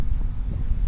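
Strong wind at a beach campsite in Bolinao buffets the microphone in a continuous low rumble, steady and loud throughout with no voices.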